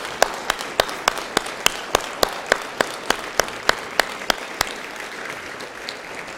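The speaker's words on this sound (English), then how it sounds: "This is where it says thunderous applause." Applause rings out at a Rotary Club meeting as a steady, evenly spaced run of sharp claps at moderate loudness, thinning and fading after about five seconds.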